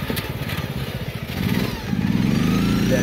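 A racing lawn mower tractor driving on a beach, its small engine puttering in a quick, steady chug that swells louder as it speeds up, close by.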